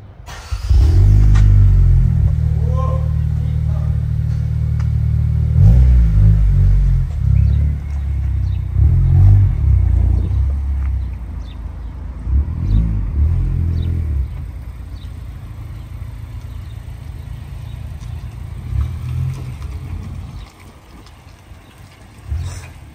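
A 2022 Honda Civic Si fitted with a 27WON exhaust rumbles deeply with several revs near the start. The engine stays loud for a while, then settles and fades toward a quieter idle, with no talking.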